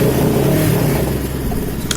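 A UM Renegade motorcycle engine runs loud and steady close by as the throttle is raised, holding a sustained revving drone for a couple of seconds with no talk over it.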